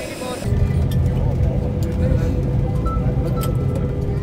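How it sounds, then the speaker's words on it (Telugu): Loud, steady airliner cabin engine roar during a flight, a dense low rumble that swells in after a brief quieter start and holds throughout, with faint voices underneath. "ఫ్లైట్ సౌండ్ భరించలేం మరి"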